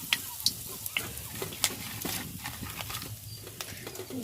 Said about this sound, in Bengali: আর এই যে গোটা গরম মশলাও দিয়ে দিলাম